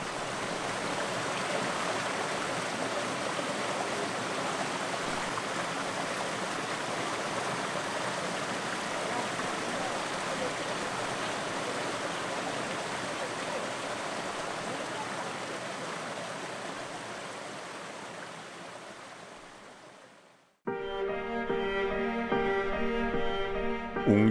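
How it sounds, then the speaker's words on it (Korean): Ojang Falls in Jeongseon, Gangwon, pours a huge stream of water down a tall cliff, making a steady, loud, hissing roar that holds for about twenty seconds before music cuts in abruptly. "웅장한 절벽 위에서 거대한 물줄기가 떨어져 내립니다. 정선의 오장폭포입니다."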